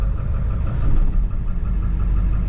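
A Ford 7.3 Powerstroke diesel idles steadily up close, with a low, uneven rumble and faint knocking from an engine miss, loud and continuous with no talk.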